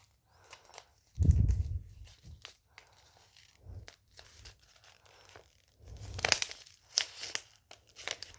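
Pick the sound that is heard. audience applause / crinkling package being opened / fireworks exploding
crinkling package being opened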